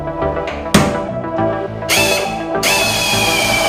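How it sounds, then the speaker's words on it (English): Compressed-air drill boring out spot welds on an Audi Quattro body panel, with repeated bursts of high whining drilling and a sharp clunk near the start, close and loud in a workshop. "Mark the spot welds, drill them out."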